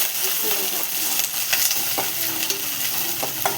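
Chicken fries in a pan, a close, continuous sizzle with repeated scraping and stirring clatters through the short stretch, no talking.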